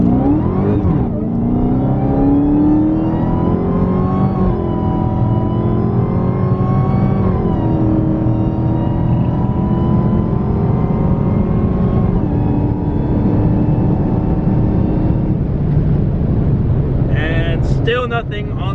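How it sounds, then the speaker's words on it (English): Supercharged Dodge Hellcat 707 V8 roaring loud and steady under acceleration on the road, the engine note sweeping upward in stages with a whine on top, up close for the whole stretch. "We're gonna let the supercharger breathe. We're gonna let the Hellcat roar and put the 707 to the tarmac"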